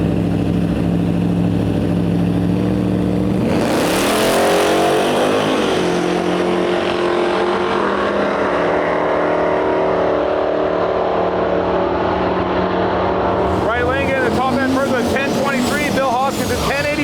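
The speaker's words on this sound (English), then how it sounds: "Mr. Bill Hoskinson himself and his beautiful G-body Malibu." A G-body Malibu drag car launches and roars down the strip at Gainesville Raceway during Sick Week, a loud engine climbing in pitch and then holding a sustained howl, with a commentator talking over it.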